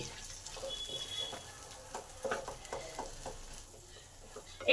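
Flat beans being stirred in a pan over medium heat, with intermittent scraping and clacking strokes of a spoon against the pan over a faint, soft sizzle, fairly quiet and close.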